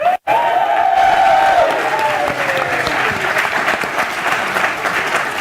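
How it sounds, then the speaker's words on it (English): Loud, sustained crowd applause with cheering and a rising shout from an audience voting at a product pitch event, dense clapping continuing to the end. "just by applause and screaming and dancing in the aisles and standing up and banging your feet"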